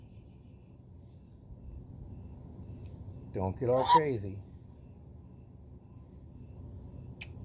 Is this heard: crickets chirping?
yes